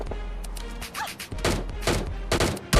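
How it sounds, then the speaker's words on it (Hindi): Gunfire in PUBG Mobile Lite, an AWM sniper rifle firing a head shot at a bot, sounding as several close, sharp bursts over a steady low game hum. "इस बोट को हम AWM से शॉट मारते हैं, हेड शॉट"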